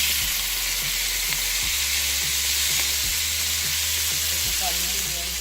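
Ground beef for Jamaican beef patties sizzles and fries in a hot pot, a constant dense crackle close up, with a few faint knocks in the background and nobody talking.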